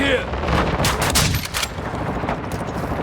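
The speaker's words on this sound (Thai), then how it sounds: "กำลังยิงรถกำลังยิงรถ" Rapid bursts of gunfire in Call of Duty as shots are fired at a car, loud and close with sharp cracks in the first half, fading into game noise.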